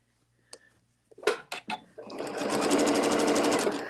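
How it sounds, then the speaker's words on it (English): A sewing machine runs a steady burst of regular stitching on quilt fabric after a few clicks and knocks from handling, its fast rhythmic needle whir close and fairly loud. "you can tell I've been sewing regular stitching"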